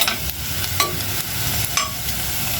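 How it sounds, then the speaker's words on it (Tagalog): Food being stirred and sautéed with ginger in a pan, a steady sizzle with a few scraping knocks of the utensil, close and continuous with no talking. "Halo-haloin ng bahagya. Mikos-mikos natin hanggang sa pumula."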